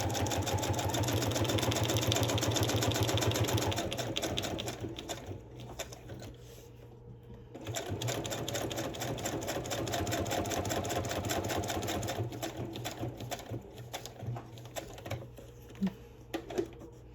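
A sewing machine runs in fast, even stitching bursts, pausing briefly midway before resuming, with a few light clicks near the end.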